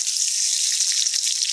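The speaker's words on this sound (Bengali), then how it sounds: "উল্টে পাল্টে বেশ ভাজা ভাজা করা হচ্ছে" Potatoes fry in a pan with a steady, bright sizzle, close and continuous with no voices.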